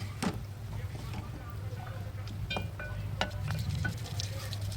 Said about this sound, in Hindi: अदरक लहसुन डालने के बाद भी हम 1 मिनट जो है वो चिकन को भून लेंगे अदरक लहसुन के साथ